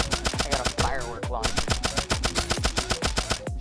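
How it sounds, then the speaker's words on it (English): Rapid-fire bursts from a firework launcher weapon in the Turnip Boy Robs A Bank video game, a steady string of loud, evenly spaced explosive pops running throughout. "I got a firework"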